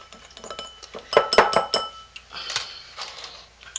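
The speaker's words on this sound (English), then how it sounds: "I'm going to take a little whisk and whisk that up into our super fats that I've completely melted and then let cool." A small whisk stirs melted super fats and oils in a bowl while cold process soap is made from scratch, giving quick rhythmic clinks and scrapes against the bowl, close up and fairly loud.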